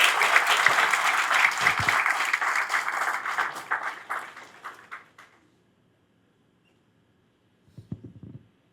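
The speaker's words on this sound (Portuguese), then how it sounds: "eu peço mais uma vez uma salva de palmas aos representantes da família" Audience applause at a study notebook launch event in Londrina, honoring the family's representatives: dense clapping for about five seconds that fades out, then silence and a brief soft burst of sound near the end.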